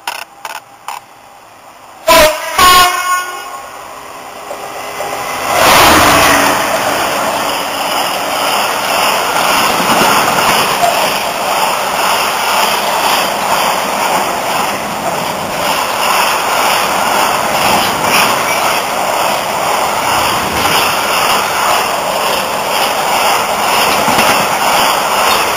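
A Class 66 diesel locomotive hauls a mortar freight train past a lineside spot at Milton Keynes. A few sharp clicks come first, then a loud, steady roar of engine and rolling wagons that carries on close by with no talking.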